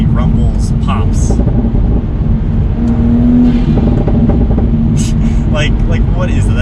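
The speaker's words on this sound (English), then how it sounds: "The exhaust has a good tone under acceleration, but still gets you those crazy rumbles, pops." A Toyota Supra A90's AWE aftermarket exhaust rumbles loudly and steadily under acceleration, with sharp crackling pops bursting through now and then.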